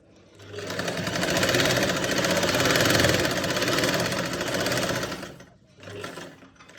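A sewing machine runs steadily while stitching the center of a round neckline, a loud continuous whirring motor with rapid needle rhythm for about five seconds, then a brief pause and a short final burst.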